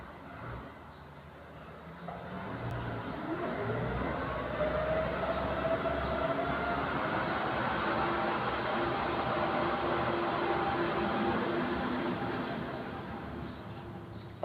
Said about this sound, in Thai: เสียงรถรถนะคะ